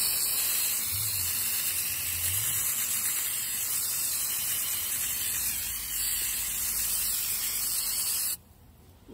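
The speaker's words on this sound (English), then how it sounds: "The next step is to wash our tubers down, and so we just give it a really good hose down" Garden hose spraying hard on freshly dug dahlia tubers, a steady loud hissing gush of water that runs almost unbroken for several seconds, with faint low thumps early on, then cutting off abruptly near the end.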